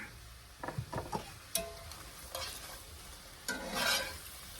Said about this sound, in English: Going to give that a good stir.